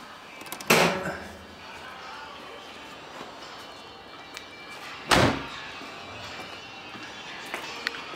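Two solid thunks from the hood latch of a 1991 Mazda RX-7 being popped, several seconds apart, close and fairly loud over quiet room tone.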